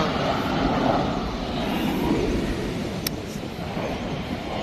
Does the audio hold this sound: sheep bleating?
no